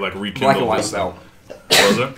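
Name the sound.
sneeze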